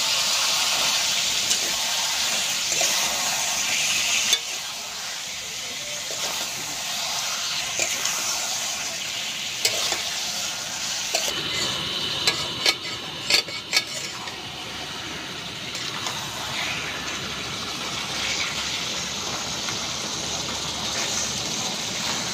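Bombay duck (loitta) fish frying in hot oil outdoors at a Sundarbans camping picnic, a loud, steady broad hiss and sizzle that runs throughout with crackling bursts and no talk.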